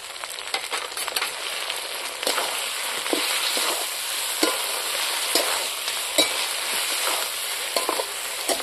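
Spice masala with chili powder fries for a rustic goat mutton curry cooked at a family picnic, a loud, steady sizzle broken by repeated scraping strokes of a ladle in the pot, with no voices.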